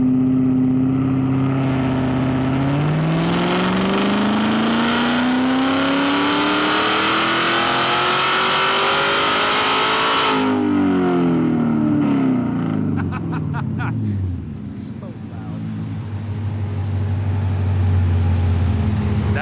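A modified Corvette Z06 engine revs hard on a dyno with the rev limiter raised, its loud note sweeping up to a high scream, dropping, then climbing again, with a brief rattle and lower idle near the end.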